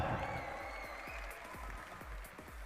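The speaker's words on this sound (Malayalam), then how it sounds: "ഒരു നല്ല കൈയടി കൊടുക്കും ആശാ." Audience applause at a film's grand audio launch event in a mall, a steady wash of clapping with a low crowd rumble throughout.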